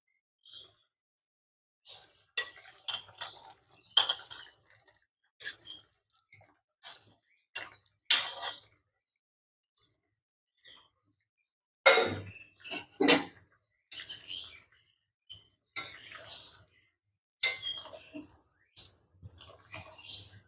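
Papaya dhokas go into a curry pan amid scattered, crisp clinks and taps of utensils against metal. The clinks come in short irregular bursts separated by quiet gaps, close by and fairly soft.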